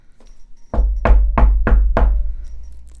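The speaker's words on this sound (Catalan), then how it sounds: "Va picar la porta." Five firm knocks on a door in a steady, evenly spaced rhythm, loud and close, with no talk over them.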